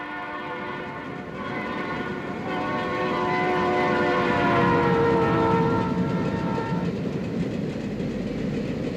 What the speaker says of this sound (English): Let's watch a pair of U-50Cs at speed near North Platte.